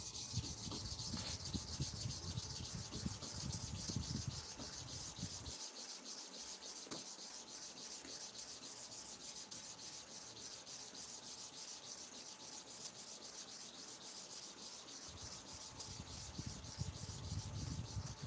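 A barber clipper's upper blade is rubbed back and forth on a sharpening surface, giving steady rasping strokes with a brief quieter pause midway; no one speaks.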